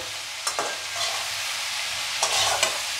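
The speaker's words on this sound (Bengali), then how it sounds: "একটু এটাকে ভেজে নেব।" Spices with turmeric, salt and sugar fry in a pan for aloo capsicum curry, a steady close sizzle broken by a couple of brief stirring scrapes.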